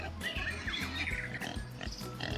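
A single pig on a small farm grunts and oinks steadily at close range, with low rhythmic snorts and some higher squeal-like sounds over a continuous background.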